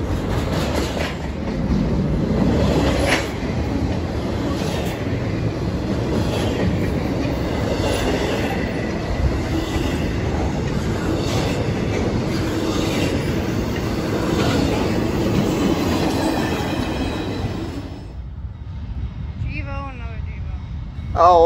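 A westbound freight train rolls past at close range, a loud sustained roar of wheels and cars with clattering and squealing that drops away sharply near the end as the train clears, with a voice heard near the end.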